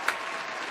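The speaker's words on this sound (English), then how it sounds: "Can we get a round of applause and a Dad of the Century" A brief burst of clapping, brisk and fairly close, with a single sharp clap standing out at the start.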